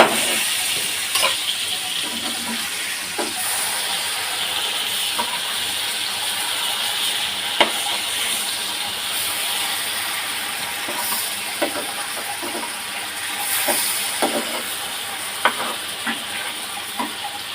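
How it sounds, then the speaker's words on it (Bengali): Hilsa fish fries in hot mustard oil, a steady dense sizzle and hiss with scattered pops and crackles throughout, close and continuous with no talking. "আজকে সরিষার তেল দিয়ে ইলিশ মাছ ভাজা করতেছি"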